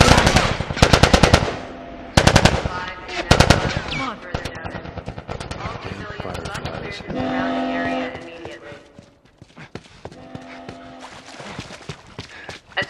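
Automatic and single-shot gunfire from a firefight in The Last of Us breaks out in loud, rapid bursts, with sustained rattling volleys and tonal game sounds between them, and no talking.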